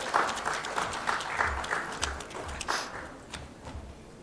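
A conference audience claps for an expert panelist being introduced, a moderate round of applause with scattered individual claps standing out, gradually thinning toward the end.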